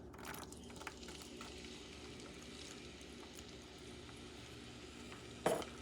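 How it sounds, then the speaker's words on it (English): Onions sauteing in a pan for a Puerto Rican chicken wing stew give a faint, steady sizzle throughout, with one sharp clatter near the end. "What I'm going to do first is about sauteing these onions."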